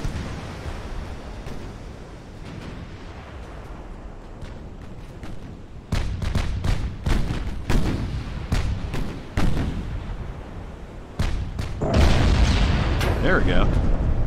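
Heavy naval gunfire from 13-inch and other shells in the battleship game Ultimate Admiral: Dreadnoughts, booming salvos in clustered bursts over a rumbling sea, loud and close, with a voice talking in between.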